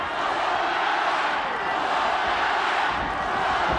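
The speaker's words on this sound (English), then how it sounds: "Crowd really getting into this one." A fight crowd roars steadily throughout a judo-style bout between Naoya Ogawa and Masaaki Satake, a dense, loud wash of cheering and shouting with no pauses.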